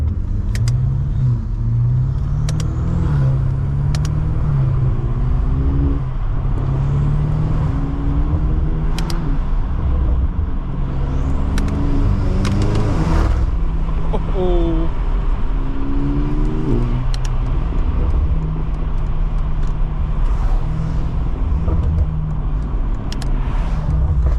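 An 800 hp BMW F90 M5 and a 700 hp BMW G80 M3 with catless downpipes and front-mount intakes drive on backroads. A deep, steady engine drone fills the cabin, with rising and falling revs and occasional sharper pulls, loud and continuous throughout.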